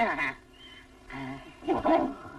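Dogs bark and whine in a Tamil film scene, a few short yelps and whimpers in bursts spread across the moment, moderately loud against a quiet background.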